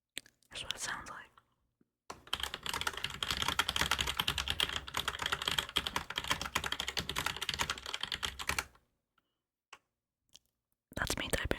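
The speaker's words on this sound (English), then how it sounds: "That's me typing regularly." Rapid, steady typing clatters on a Roccat Vulcan 121 mechanical keyboard, close and crisp, in one long continuous burst between short quiet gaps, with faint whispering at the start.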